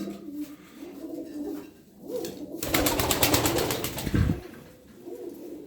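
A flock of thirteen tumbler pigeons coos softly in low, rolling calls, with a burst of louder fluttering and rustling in the middle before the cooing settles back.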